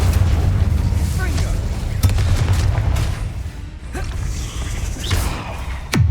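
Incendio fire spell cast in Hogwarts Legacy, heard as booming, whooshing bursts amid dense game combat noise, with a sharp swelling blast near the end.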